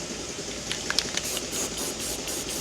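Short hissing bursts of rattle can spray paint on truck parts, faint and close, with a few light clicks from the nozzle over a quiet background.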